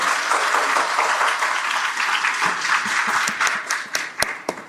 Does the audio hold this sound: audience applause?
yes